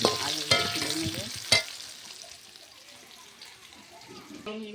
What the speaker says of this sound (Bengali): এই যে এখানে আমার আলুগুলো ভাজা হয়ে গেছে